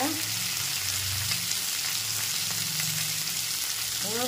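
Steady, loud sizzling of large onions frying in a hot pan for chicken curry, with occasional stirring scrapes.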